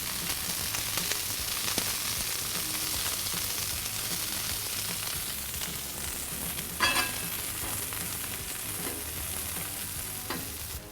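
Sliced fresh jalapeno peppers sizzling in clarified butter on a hot griddle, a dense steady crackle close up with a few sharper pops and scrapes near the middle.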